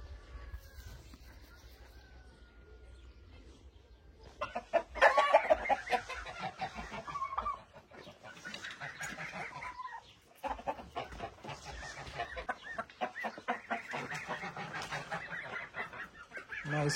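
Turkeys and other farm fowl calling in a village yard: soft at first, then a busy mix of clucks, honks and squawks that comes and goes at moderate distance.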